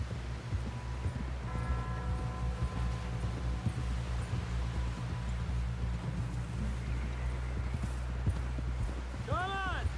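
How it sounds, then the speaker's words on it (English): Horse hooves clip-clopping at speed in the Red Dead Redemption 2 video game, a rapid steady rhythm under music and voices talking, with a neigh near the end. "Someone help John down off this horse"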